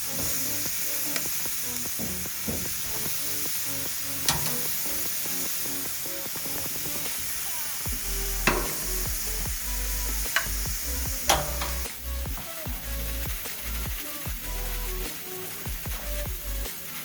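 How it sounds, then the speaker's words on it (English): Steaks sizzling on an outdoor barbecue with a steady, dense crackling hiss and scattered sharp pops and spits that carry on for about seventeen seconds, close and fairly loud, with no speech. "We'll go and throw the steaks on the barbecue"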